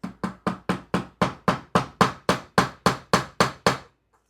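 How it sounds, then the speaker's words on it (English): Roughly fifteen sharp, evenly spaced hammer blows drive nails at an angle into a wooden staghorn fern mount, each a close, loud knock that decays quickly, followed by a moment of quiet. "So I'm going to be inserting the nails at an angle."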